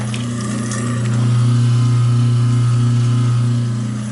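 A reinstalled garbage disposal hums and grinds steadily at close range, a loud continuous motor drone with rough churning on top.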